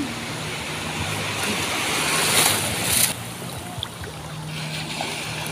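Ocean waves wash and surge in a broad, steady roar at a beach in San Fabian, Pangasinan, Philippines, building to a louder crash before settling back into a constant hiss.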